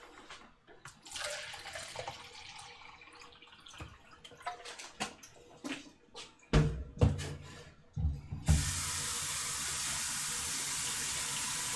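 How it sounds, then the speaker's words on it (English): Filtered water runs into a container headed for the fridge, starting as a trickle among faint kitchen clatter and a few knocks, then turning to a loud, steady hiss of flowing water for the last few seconds. "get myself some more water filtering into the fridge"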